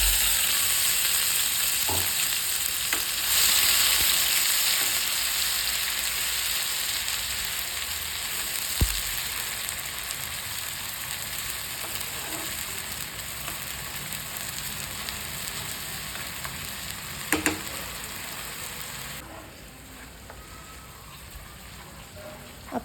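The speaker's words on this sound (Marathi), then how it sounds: "आपल्याला हे चांगलं तेल सुटस्तोपर्यंत परतायचं आहे" Onion and whole-spice masala paste fry in plenty of hot oil in a pan, a steady close sizzle with occasional stirring scrapes and clinks, easing slightly toward the end.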